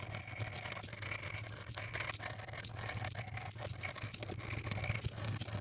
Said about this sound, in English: I use simple tools for this task, a bamboo toothpick and a toothbrush.